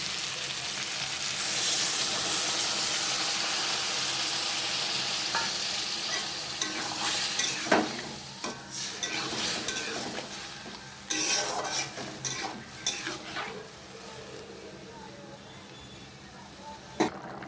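White potatoes for a turmeric-free Bengali chorchori sizzle in a pan after water is added. A loud steady hiss at first gives way to quieter frying, broken by sharp scrapes and clinks of a spoon stirring against the pan.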